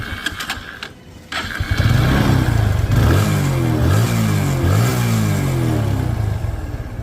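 A used RTR motorcycle is started after a few clicks and brief mechanical noise, then its engine catches and idles with a throbbing rumble that rises and falls with a few throttle blips.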